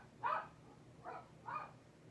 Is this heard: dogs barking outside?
yes